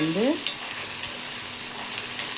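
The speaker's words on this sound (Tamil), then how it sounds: "நல்லா வறுத்து எடுத்துக்கணும். தோல் ஒரு மாதிரி வெள்ளையாக மாறும்." Green turkey berries (sundakkai) pan-roasting for a spicy tamarind kara kulambu, giving a steady close sizzle with faint stirring scrapes and a brief high squeak at the start, no voices.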